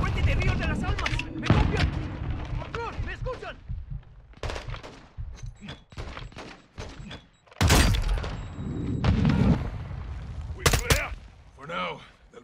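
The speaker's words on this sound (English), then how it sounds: "That was some beautiful grenades." Grenade blasts from the Call of Duty Modern Warfare 2 campaign, heavy broadband bursts mixed with gunfire, with loud impacts near 1.5, 7.6 and 10.8 seconds and voices talking between them.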